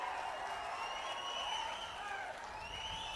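Faint, distant applause from an audience at a chief minister's public speech in Nellore, a soft steady patter of clapping under room hiss for a few seconds.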